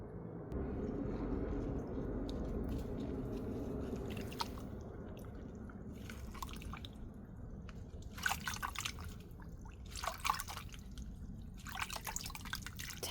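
Plant roots being rinsed in water while repotting a Rhynchostylis-type orchid, soft dripping and splashing with brief watery swishes that grow more frequent toward the end, quiet and close, no talk.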